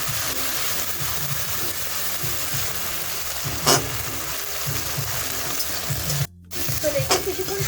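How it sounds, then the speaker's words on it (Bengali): Green chilli and cumin paste sizzles and fries steadily in a pan for a Bengali bottle-gourd-greens and prawn dish, with stirring scrapes throughout and no talking. "এটাকে কিছুক্ষণ সময় ধরে কষিয়ে নেব।"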